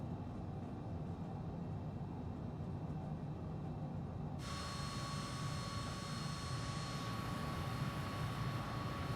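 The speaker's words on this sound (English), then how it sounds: "Look at that afterburner, guys." A simulated MiG-21bis jet engine with afterburner lit, a steady, loud broadband roar that continues throughout, with a sharp tonal whine and added hiss coming in partway through.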